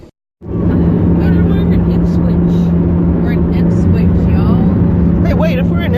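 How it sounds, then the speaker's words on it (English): Steady in-car engine and road drone with a strong low hum while driving along the Centenary Highway toward Ipswich, continuous and close after a brief silent start, with faint voices in the background. "I didn't realise that we were driving towards Ipswich, and we're on it's the Centenary Highway."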